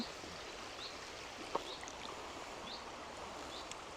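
River water flows in a steady broadband rush, constant and fairly close, with faint bird chirps and a brief knock partway through; no talking.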